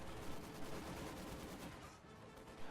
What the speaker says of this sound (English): this gun firing on the Schwer Panzer headquarters gets a couple shots